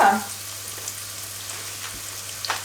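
Onions and still-frozen meat fry in a pan, a soft, steady sizzle and crackle with a brief louder clatter at the start and small pops near the end.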